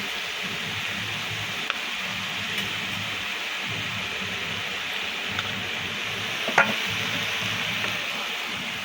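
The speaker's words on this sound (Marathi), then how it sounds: "चांगला कांदा छानपैकी शिजवून घेऊया" Onion with ginger-garlic paste frying in a pan for Punjabi-style aloo gobi, a steady soft sizzle with occasional small clicks and one sharper tap, heard alone.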